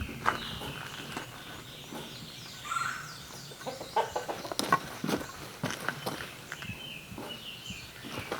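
Chickens cluck in soft, scattered bursts near a backyard coop, close by, with footsteps and light rustling among them.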